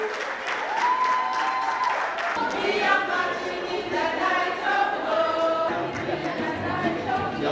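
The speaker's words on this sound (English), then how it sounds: "clap for Lesotho" A crowd applauds delegations marching in a parade of nations at the ECSACON 2018 conference, dense sustained clapping with cheering and chatter mixed in, and voices talking over the applause.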